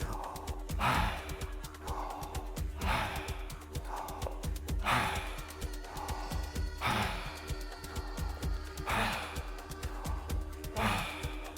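Slow, deep breaths during a tension-releasing breathing exercise, each long audible inhale followed by a sighing exhale, repeating in a steady rhythm close to the listener with no talking.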